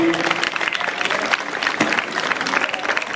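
Gala audience at an international folk culture festival in Blanes applauding strongly, a dense continuous clapping that fills the short stretch with a voice briefly audible at the start.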